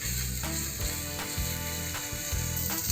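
Tomato ketchup sizzling and frying in a pan with sandwich filling, a steady close crackle with occasional scraping stirs, no voices.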